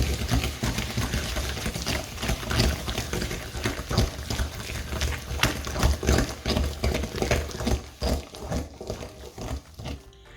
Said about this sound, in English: So after adding all these ingredients, we're going to whisk them.